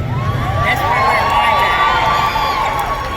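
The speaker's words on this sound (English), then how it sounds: "You guys seem like a rowdy crowd this morning." A rowdy crowd at a college spring commencement ceremony cheers and whoops in a continuous, loud, boisterous swell of voices.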